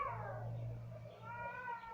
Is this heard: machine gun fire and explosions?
no